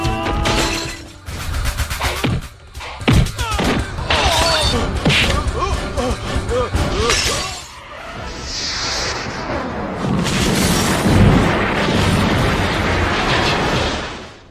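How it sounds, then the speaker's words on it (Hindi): Explosions and gunfire in a Bollywood action movie, loud crashing blasts, shattering bursts and rapid pops packed densely throughout, with brief voices and a swelling roar in the second half. "तुम लोग अपने पटाखे बजा चुके, अब हमारा धमाका भी देख लो। फायर।"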